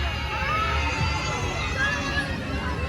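A large crowd fills a busy picnic spot, producing a steady hubbub of distant chatter and children's voices. The murmur holds at one level throughout.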